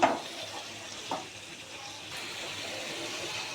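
A ground spice paste of coriander, chili, cinnamon, cardamom and ginger, with salt and turmeric, fries in a pan with a soft, steady sizzle. A brief utensil knock opens it, and no one speaks.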